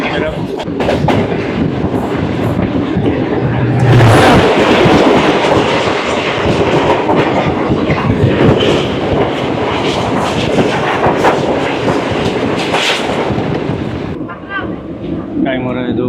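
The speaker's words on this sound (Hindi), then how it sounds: "हमें एक और क्रॉस मिलेगा, ये होगा 47 अब रहमान बाबा एक्सप्रेस का" The Rehman Baba Express rolls through Lahore station in a loud, continuous rumble with clickety-clack wheels on the rails, close by for most of its length before the noise thins toward the end.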